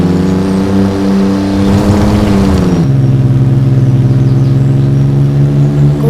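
Simulated Porsche 911 GT3 RS engine in the Driving School Simulator game held at full throttle, a steady loud droning rev with a pitch shift partway through, continuous and close with no talking.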